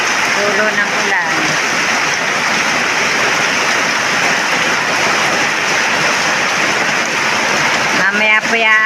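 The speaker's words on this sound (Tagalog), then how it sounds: "Tulo ng ulan." Steady rain dripping and pattering in a dense, even hiss that holds for the whole stretch, with a voice speaking briefly at the start and again near the end.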